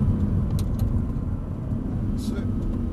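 An Audi R8 race car at Dunsfold brakes and drops a gear while following another car into a chicane, its engine a steady close rumble throughout, with a driver talking over it.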